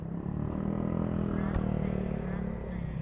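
A Honda Beat motor scooter riding along, a steady low engine drone with road and wind rumble throughout, heard from the rider's position.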